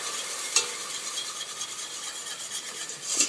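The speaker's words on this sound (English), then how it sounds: "So I'm going to add this slowly and whisk." Half and half is whisked into a pot of broccoli cheddar soup, giving a steady, close scraping swish with a couple of sharper clinks against the pot.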